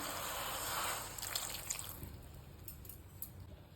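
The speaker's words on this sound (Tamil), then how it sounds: "இப்போ கொஞ்சமாக தண்ணி ஊற்றி வேக வைக்க போகிறேன்" Water splashes and trickles into a pan of frying meal maker (soya chunks), a brief pour followed by scattered drips and light sizzling, fairly quiet and close.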